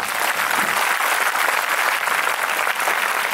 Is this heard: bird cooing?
no